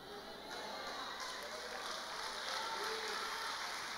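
A church congregation claps during a sermon, a steady wash of applause that swells slightly after the first half-second and holds evenly, fairly soft and distant.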